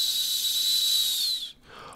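A voice imitates a fine, delicate whistle by drawing out a sustained, steady hissing S sound, loud and alone, for about a second and a half before cutting off sharply.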